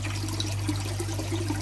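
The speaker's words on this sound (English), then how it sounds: "I'm going to get the hose on now and get the water topped up." Water from a garden hose running steadily into a pond filter while it is topped up, a soft constant trickle and wash under a low hum, fairly faint with no talk.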